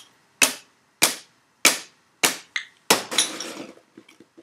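A glass water hammer tube is struck, giving four sharp, ringing taps at even intervals. A quick fifth tap follows, then a harder hit that breaks the glass with a trailing clatter of small pieces.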